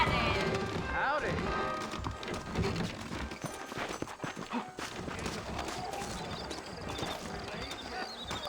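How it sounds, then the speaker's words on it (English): Saddled horses trotting in Red Dead Redemption on PC, a clear clip-clop of hooves at a steady rhythm, with talking voices running over the hoofbeats. "I got the horses saddled up and ready out front."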